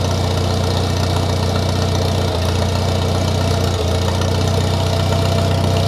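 A 1953 Farmall Cub tractor engine runs at a steady, loud idle close by, with a continuous low rumble and no talk.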